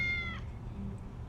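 A cat meows once inside the video game Tales of the Neon Sea, a short, clear, tonal cry at the start, followed by a low background hum.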